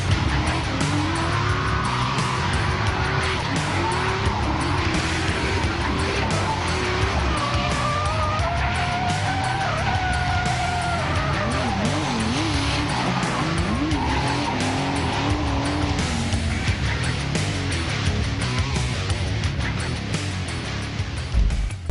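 A Nissan R31 drift car's engine snarls and wavers while its tyres squeal through long slides, a loud, steady blend of revving and screeching that carries for the whole stretch without talk.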